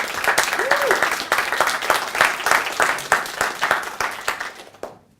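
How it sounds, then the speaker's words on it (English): A crowd applauds steadily for several seconds, dense clapping that stays fairly even before quickly dying away at the end. "Please give them a big round of applause."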